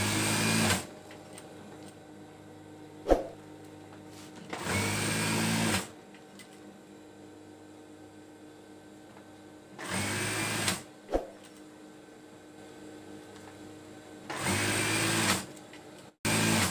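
Sewing machine stitching the band of a bed skirt in four steady runs of one to two seconds each, with quiet pauses between runs and a couple of sharp clicks in the gaps.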